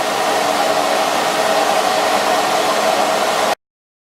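An air blower sits about three feet from a horizontal-axis wind turbine with no venturi fitted, giving off a steady, loud broadband rush with a tonal hum. It runs continuously and stops abruptly near the end.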